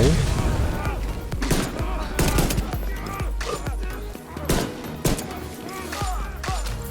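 Rapid gunfire bursts and heavy explosion thumps from grenades in the shooter video game The Division 2, during a Hollowood global event, dense and continuous with someone talking over the action.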